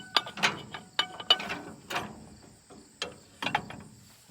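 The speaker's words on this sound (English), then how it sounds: "that makes this whole hitch swing and pivot into transport mode and hay pickup mode." A hay tedder's hitch swings and pivots into transport mode, giving off a series of irregular metallic clanks, clicks and ratcheting knocks at close range, with short quiet gaps between them.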